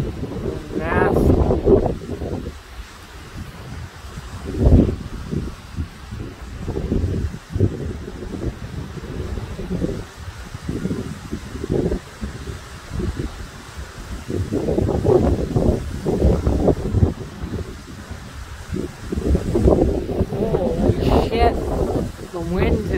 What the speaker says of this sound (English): The wind is unbelievable.